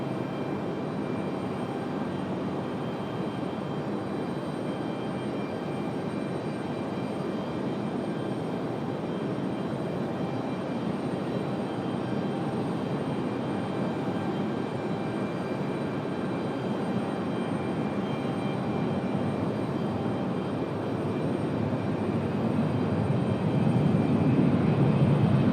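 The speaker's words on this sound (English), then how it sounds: "Alaska Airlines on the move back to Seattle" An Alaska Airlines jet airliner moves across Raleigh Durham airport, a constant moderate engine rumble with a faint high whine that grows slightly louder toward the end, heard alone without voices.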